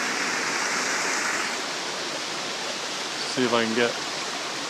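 Waterfall on a farm water system, heard as a steady rushing wash of water throughout, a little louder at the start, with a brief spoken phrase near the end.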